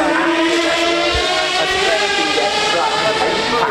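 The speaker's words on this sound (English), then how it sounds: "Le son de la T50. V12 race grade suspension in this." A T50 supercar with a V12 engine runs at Goodwood, its dense harmonic engine note loud and steady throughout, with overlapping tonal layers shifting slightly in pitch.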